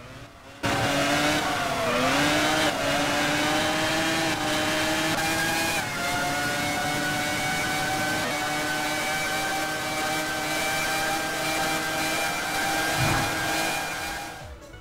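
Simulated Formula 1 car engine from the EA Formula 1 PS2 racing game, a loud, steady high-pitched whine that climbs and holds through gear changes for the whole stretch, alone with no talk.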